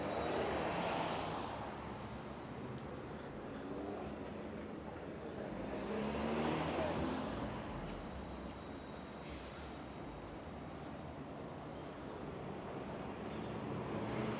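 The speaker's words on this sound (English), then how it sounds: "you can hear just the sounds of nature a little bit, or the cars on nearby streets" Distant car traffic on nearby downtown Detroit streets, a soft steady roadway wash that swells and fades gently throughout, with no voices.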